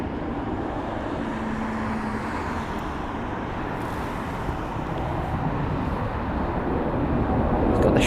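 An Airbus A320-200 with retrofitted sharklets departs distantly from Heathrow, a broad, low engine roar that slowly builds toward the end, with no talking over it.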